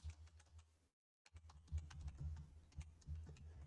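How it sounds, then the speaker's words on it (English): Rapid keystrokes on a computer keyboard while entering a spreadsheet-style formula, a close, quiet run of clicks broken by a brief silent pause before the tapping resumes, with no talking. "Then again, I will go here to type my function."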